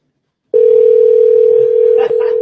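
A steady electronic telephone tone starts abruptly and holds loud and unbroken, with faint background murmur underneath.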